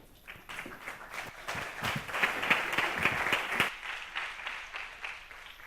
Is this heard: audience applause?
yes